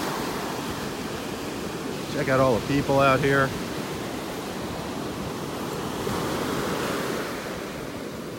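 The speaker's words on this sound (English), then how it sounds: "listen to the waves" Steady ocean surf washes up on a beach in North Naples, Florida on a Sunday morning, a broad continuous rush with gentle swells and some wind, as someone speaks briefly over it.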